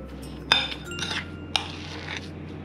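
A utensil beats sweet mung bean filling in a pot, giving a few sharp metallic clinks and scrapes spaced about half a second apart over quiet background.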